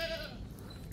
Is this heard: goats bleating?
yes